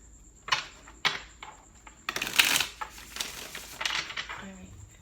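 Tarot cards being shuffled by hand, a few quick riffling and slapping bursts followed by a longer run of papery shuffling and tapping, close by, with no voice over it.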